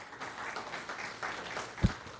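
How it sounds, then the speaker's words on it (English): Applause from an audience during a mayoral speech about Fayetteville's future, a brief burst of clapping under the room's reverberation with one sharp thump near the end. "that deserves a round of applause"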